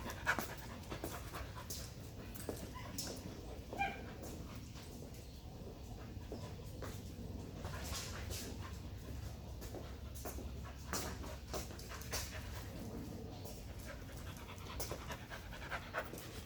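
A dog pants steadily and quickly for the whole stretch, close by and fairly quiet, over a low rumbling outdoor background with no talking.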